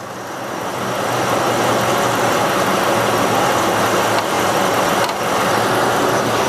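A Ford F-series truck engine idles steadily at around 825 RPM, a continuous even rumble close to the microphone with no speech over it.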